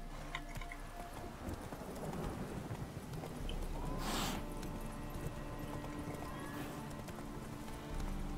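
The horse Roach clip-clops along with soft hoofbeats in The Witcher, mixed with ambient game sound and a brief whinny-like burst midway.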